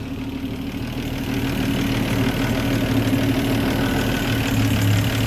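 Land Rover Series 3 109 with the 2.6 engine idling steadily after a tune-up, its low, even rumble close and continuous with no talking over it.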